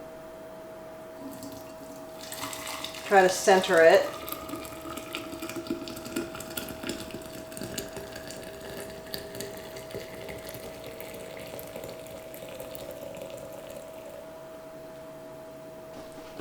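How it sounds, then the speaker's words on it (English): Homemade plant milk pours slowly through a strainer into a jar, a soft burst of liquid splashing and trickling near the mic for about a second, followed by a low steady hum and faint drips. "we will put it over the jar, and then you just want to slowly pour it in."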